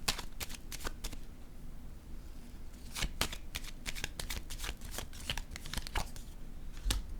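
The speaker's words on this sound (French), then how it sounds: "Je vais déposer une carte sur la prison." Tarot cards handled on a table, heard as a steady run of crisp, papery flicks and slaps, some sharper and louder than others, with no talking.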